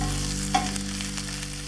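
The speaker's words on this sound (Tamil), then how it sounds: "இப்போ இந்த இஞ்சி பூண்டோட பச்சை வாசனை போகிற வரைக்கும் கொஞ்சம் நேரம் ஃப்ரை பண்ணிக்கிடுறோம்" Ginger garlic paste frying with onions in a pan for a restaurant-style chicken gravy, a continuous close sizzle with a brief stir or clink near the start, no voices.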